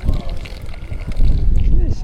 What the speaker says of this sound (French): Il y a du vent, c'est pas facile.